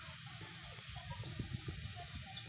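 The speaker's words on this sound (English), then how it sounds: "Look at that duck there." Ducks on the water by a bridge at a campground in Las Cañadas, Ensenada, Baja California give faint, scattered quacks over a quiet outdoor hiss, clustered in the middle of the stretch.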